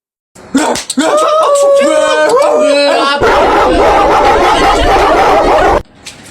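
A dog barks and yelps loudly and repeatedly at close range, followed by a few seconds of harsh, noisy commotion.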